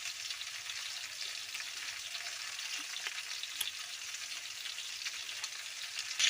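Fish curry cooks in a pan, giving off a soft, continuous sizzling and bubbling heard close but quietly, with no talking.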